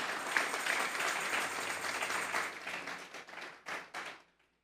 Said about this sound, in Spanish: Vamos a darle un fuerte aplauso pues al Señor esta mañana.